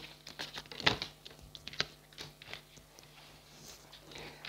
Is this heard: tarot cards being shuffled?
yes